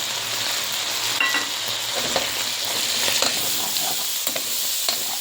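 Steady, loud sizzling of ginger, garlic and onion paste frying in hot oil, with occasional scraping and stirring clatters throughout.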